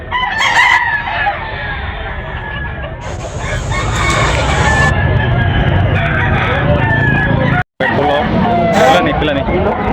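Backyard chickens cluck and a rooster crows loudly nearby, mixed with other farmyard birds, while someone talks over them throughout.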